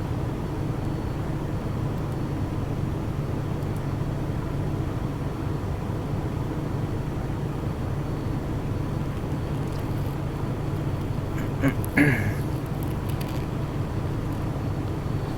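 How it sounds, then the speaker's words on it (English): Steady low engine drone of a Challenger 300 business jet taxiing in X-Plane 10, an even continuous hum with a brief clunk and faint higher whine near the end. "So as we're taxiing, we will check the brakes."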